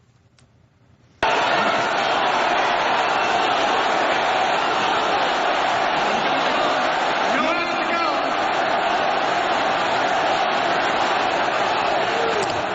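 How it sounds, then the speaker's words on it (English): A large crowd at a Trump rally in West Virginia chants "lock her up" as one loud, sustained roar of massed voices that starts abruptly and holds steady to the end. "At that rally in West Virginia, just a few hours after the court decisions came out and went known, listen to the crowd."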